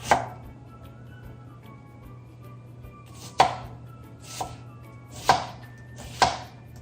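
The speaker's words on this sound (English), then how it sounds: "everybody has their own way of dicing an onion. This way just seems to work for me." A knife dicing an onion on a cutting board, five sharp chops spaced irregularly about a second apart, close and distinct over a faint hum.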